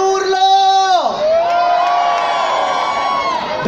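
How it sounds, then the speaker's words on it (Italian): A live show crowd lets out a big shout and cheer, with a host's voice sweeping up and down over the sustained roar of many voices. "Un bel urlo!"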